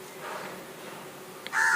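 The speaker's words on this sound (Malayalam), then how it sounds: "നിങ്ങൾക്ക് ബാക്ക്ഗ്രൗണ്ടിൽ കേക്ക് ഈ കാക്ക വിളിക്കുന്നത്." A crow caws once near the end, loud and fairly close, against a steady hum of background noise.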